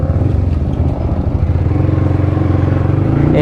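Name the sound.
motorcycles running, Yamaha MT and KTM Duke 250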